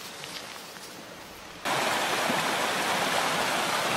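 A river stream near Corner Lake flows with steady rushing water, quieter at first, then suddenly much louder and fuller as the broadband roar jumps up partway through and continues unbroken.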